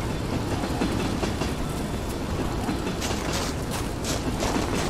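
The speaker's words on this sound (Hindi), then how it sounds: "ट्रेन आके रुक गई है यहाँ पे।" Train in the IGI-1 video game's Missile Trainyard mission, a dense rumbling clatter of rail cars that holds steady and close throughout with faint metallic clicks, alone without voices.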